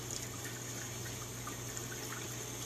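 Running water streams steadily from a tap as a makeup brush is rinsed under it, a faint, even splashing flow with no pauses.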